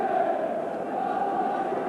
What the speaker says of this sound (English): Quite a hubbub of noise from the crowd.